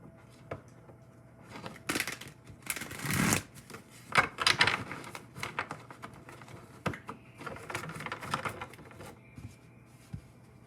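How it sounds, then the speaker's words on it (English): Tarot cards being shuffled and pulled from the deck: repeated riffling bursts and soft slaps, close and fairly loud, coming in uneven waves with short pauses between. "now we're going to pull some cards and see what the messages are"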